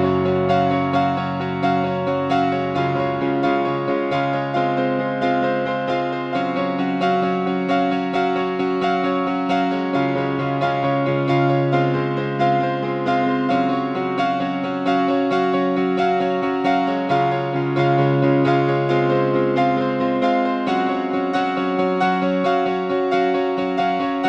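Solo piano plays the bridge of a song in its live arrangement, with sustained bass notes under repeating bright chords, loud and close, no voices.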